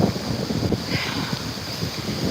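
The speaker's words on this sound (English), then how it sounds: "I wanted to show you guys how windy it was" Gusty wind buffets the microphone in low rumbling bursts, steady and fairly close, with no talking.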